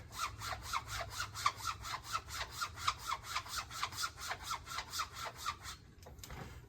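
A straight razor strokes back and forth across a linen strop in a quick, even rhythm of about twenty soft rasping passes, close and quiet, then stops.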